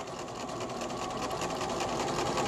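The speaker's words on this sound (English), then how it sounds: "Go forward, hold in the backstitch, and go all the way down the edge." Sewing machine running steadily while stitching a quarter-inch seam along the fabric edge, a close, continuous whirring drone with no pauses and no talk.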